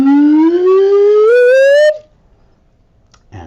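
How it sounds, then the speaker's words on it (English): An Udderbot, a homemade instrument made from a glass bottle with a rubber glove taped to it, plays one loud sustained tone that glides steadily upward in pitch, then stops abruptly into near silence. "I have with me an Udderbot"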